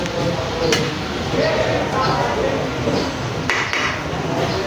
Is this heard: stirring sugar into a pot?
yes